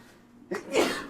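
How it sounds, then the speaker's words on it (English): A single sharp sneeze bursts out close to the microphone after a brief quiet intake, loud and abrupt. "I'm gonna sneeze now."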